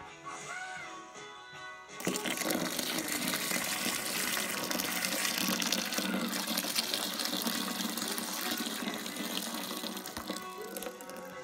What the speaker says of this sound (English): So more water goes in.